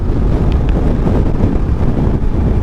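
Strong wind buffets a motorcycle rider on the road, a loud, constant low roar and rush of air over the microphone with no clear breaks.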